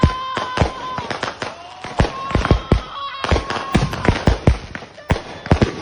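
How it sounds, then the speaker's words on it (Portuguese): Fireworks going off on the 4th of July in a residential US neighborhood, a rapid barrage of sharp cracking bangs and pops, some near and loud, others farther off, with faint whistling streaks between blasts. "um simples evento de fogos de artifício no 4 de julho"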